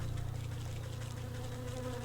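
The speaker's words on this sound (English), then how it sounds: "I guess I was a bit distracted by the bees suddenly getting hostile." Hostile bees in the video game Wytchwood buzz loudly and steadily, a close, dense insect drone holding throughout with no voices over it.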